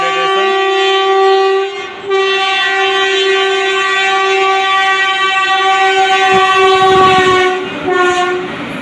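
A train pulls into Tapang railway station, its long horn blaring steadily and loud for most of the stretch, with a brief break and low rumbling wheel clatter beneath near the end.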